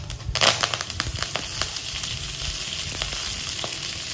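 Mustard seeds, urad dal, fenugreek and curry leaves frying in a spoonful of hot oil for a tempering, giving a steady close sizzle with scattered sharp crackles and pops, busiest at the start.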